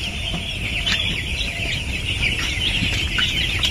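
A dense flock of chicks on a poultry farm peeps and clucks continuously, a constant high chatter filling the space with no talking.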